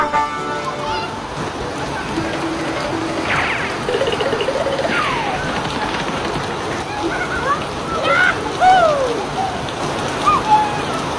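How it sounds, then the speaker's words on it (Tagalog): Steady rain falls outside a house, a dense even hiss of drops spattering on surfaces and splashing, loud and continuous throughout, with a few brief higher squeals and voices mixed in over the downpour. "Ang sarap naman ng ulan, Mateo."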